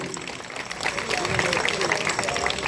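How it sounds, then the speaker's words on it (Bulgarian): Spectators at a municipal awards ceremony in Kazanlak applaud departing participants, with sustained crowd clapping that swells after a quieter start and voices talking over it. "Силни аплодисменти да ги изпратим и им благодарим."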